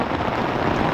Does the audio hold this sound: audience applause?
no